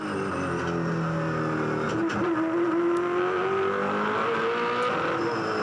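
Greg Murphy's V8 Supercar roars on board at the Adelaide 500, its engine loud and steady with a rising rev tone through a gear change, and no talk over it.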